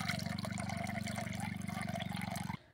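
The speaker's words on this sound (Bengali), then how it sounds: "আবারও আমি দিয়ে দিচ্ছি জল।" Water pours steadily onto wheat grains in a container for soaking, a continuous splashing gush lasting over two seconds before stopping abruptly, close and alone.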